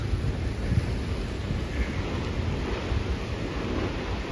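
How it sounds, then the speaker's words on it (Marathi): Water from the Nira river roaring out through one opened gate of a nine-gate dam, a steady loud broadband rush with constant turbulent churning throughout. "बघा इकडं असं निरा नदी पाणी सोडलेलं आहे"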